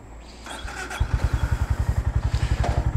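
A 2025 Honda GB350S motorcycle engine catches and settles into a loud, steady, close thumping idle, with evenly spaced low pulses beating rapidly after a brief starter whir.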